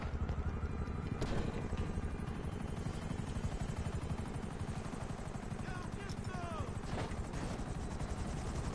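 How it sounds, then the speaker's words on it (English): A Sparrow helicopter in GTA Online flies with a continuous, loud, even rotor and engine drone lasting throughout, with faint voices now and then. "just get right the heck in my helicopter and just fly away"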